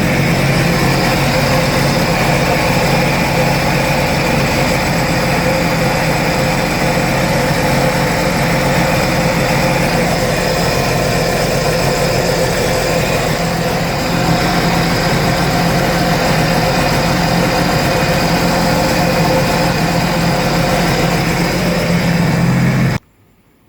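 A 2012 Sea-Doo 230 SP jet ski with a 4-TEC engine and an oil leak at the filter housing idles steadily and close, a constant droning rumble that runs unbroken for over twenty seconds before stopping abruptly.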